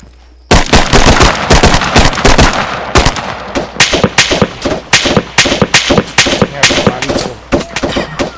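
Loud, rapid gunfire in the video game Arma 3 rattles nonstop in sharp, dense bursts, one shot tumbling after another at close range.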